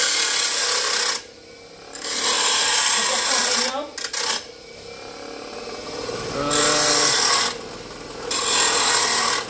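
A power tool grinds and rounds the edges of flat metal bars while preparing an E30 drift car, with loud rasping bursts broken by short pauses and brief handling noises.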